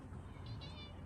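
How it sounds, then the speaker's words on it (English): A black cat on a street in Croatia lets out a single short, faint meow, somewhat distant over a low background hum. "There's a black cat crossing my path."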